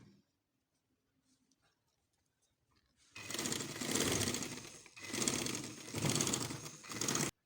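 A sewing machine stitches a baby frock in bursts of steady, rapid whirring, three runs with short pauses between, close and fairly loud after a quiet start.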